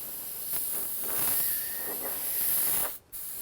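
Steady spray-gun hiss laying down a coat of candy red paint, a continuous airy rush with slight swells that cuts off abruptly near the end.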